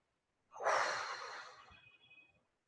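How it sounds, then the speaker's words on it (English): A single deep, slow breath drawn in and let out, soft and close, swelling quickly and then fading gradually over about two seconds in an otherwise quiet room. "Breathe in deeply and exhale deeply."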